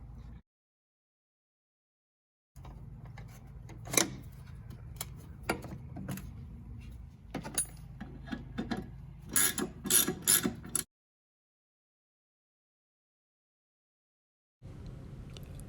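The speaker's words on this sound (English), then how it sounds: "We're going to be needing a 13mm wrench and socket to get these ones off here. I'm going to loosen all three of them" A 13mm wrench and socket loosen the strut top bolts on a 2019 Dodge Charger Hellcat, giving quiet ratcheting clicks and metallic ticks in a burst between stretches of silence.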